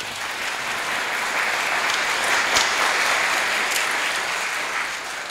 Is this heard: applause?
yes